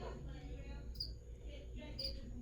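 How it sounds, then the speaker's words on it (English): Crickets chirping faintly in the background, with two brief high chirps about a second apart over a quiet, low room hum. "crickets, can you like please be quiet?"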